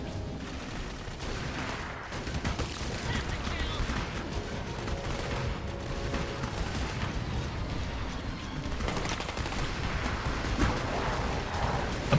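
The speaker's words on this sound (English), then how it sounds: "Apparently he can fire his right pistol a lot faster than he can fire his left." Pistol gunfire in the first-person shooter Clive Barker's Jericho, rapid shots fired in dense bursts over a continuous loud battle din, with a voice talking over parts of it.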